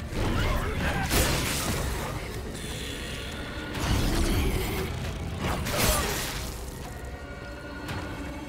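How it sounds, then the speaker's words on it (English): Machinery in the tunnels of the video game The Callisto Protocol grinds, creaks and clanks with ratcheting mechanical bursts over a dull rumbling ambience, close and fairly loud throughout. "I think it's machinery, not monsters."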